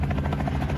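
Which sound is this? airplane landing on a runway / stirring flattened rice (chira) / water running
airplane landing on a runway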